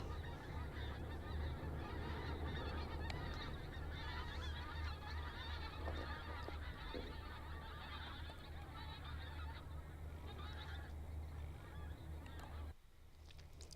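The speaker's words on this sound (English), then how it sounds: "There's a noisy flock of birds just going overhead in formation." A flock of geese honks continuously overhead at an airport, a noisy, overlapping chorus of calls over a low background rumble, fading slightly near the end.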